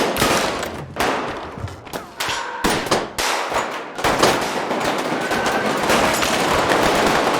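Gunfire from a scene in the 2014 film The Grand Budapest Hotel: dense, loud bursts of shots and metallic clangs, broken by brief gaps, then a sustained roar of firing and commotion that fills the second half.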